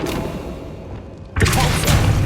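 A Flipendo spell cast in Hogwarts Legacy, heard as a sudden magical whoosh and thumping burst that kicks in partway through over game ambience, loud and close.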